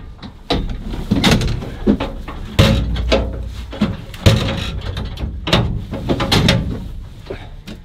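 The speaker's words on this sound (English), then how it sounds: "Shut that door, mate, will you?" A door being shut inside a farm building during lambing-time sheep scanning, heard as several loud bangs and thuds with clatter, close by, amid ongoing shed noise.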